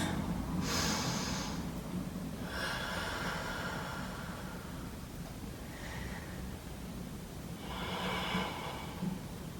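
Slow, deep yoga breaths, audible as several drawn-out, airy inhales and exhales spaced a few seconds apart and heard close up against a quiet background.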